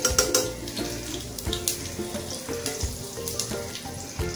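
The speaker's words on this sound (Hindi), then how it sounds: "तभी हम इसमें डाल देते तेल में।" Whole spices such as cardamom, cinnamon, cloves, cumin and bay leaf dropped into hot oil for pulao, giving a steady close sizzle and crackle with scattered sharp pops.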